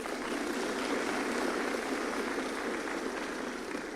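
An audience at a presidential address from State House Nairobi breaks into sustained applause, a dense, even wash of clapping that holds steady throughout with no voices standing out.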